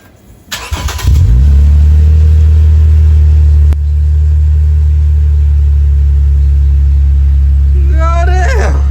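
A Lexus IS 250 engine with an HKS axle-back exhaust starts and roars into a loud, sustained rumbling idle from close range, with a voice briefly heard near the end.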